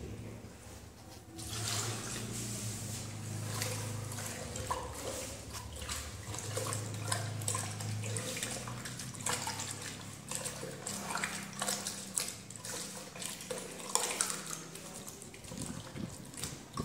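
Water pours continuously into Berger Seal-O wall primer in a container, a steady splashing, gurgling stream lasting throughout, close and moderately loud.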